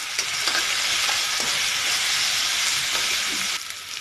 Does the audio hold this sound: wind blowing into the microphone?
no